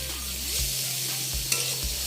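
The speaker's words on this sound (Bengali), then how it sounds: "দেখো বন্ধুরা, আমার শাকটা প্রায় ভাজা ভাজা হয়ে গেছে" Radish greens cooked with poppy seeds fry in a pan, with close, steady sizzling under repeated scraping stir strokes.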